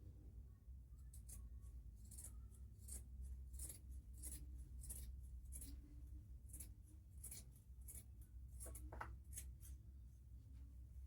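Scissors cutting fabric for an open kimono bubu, with a close series of crisp snipping and slicing strokes at an uneven rhythm over a low background hum.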